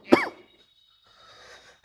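A person coughs sharply once, with a brief hoarse tail. A quieter breathy sound follows, then another short cough at the end, all in a quiet indoor room.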